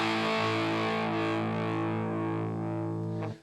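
Music run through an overdrive filter built in JavaScript gives a sustained, gritty distorted chord that holds steady for about three seconds before cutting off abruptly.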